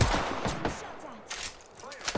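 Sharp bursts of automatic gunfire crackle through a battle royale video game fight, several rapid volleys in quick succession, with a voice speaking between the shots.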